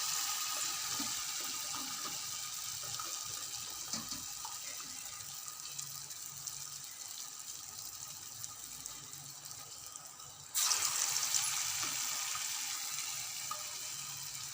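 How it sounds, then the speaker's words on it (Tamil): Grated sweet potato bondas deep-fry in hot oil, giving a continuous close bubbling hiss that grows suddenly louder and brighter about two-thirds of the way through. "போண்டாவை உருட்டி எண்ணெயில் போட்டு வறுத்து எடுக்கணும்"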